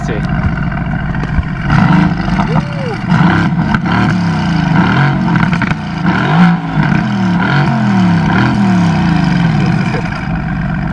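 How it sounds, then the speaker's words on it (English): A Mercedes-AMG GT C Coupe engine revs repeatedly, rising and falling in bursts, with an exhaust roar close by and some voices under it. "Let's take some exhaust footage actually."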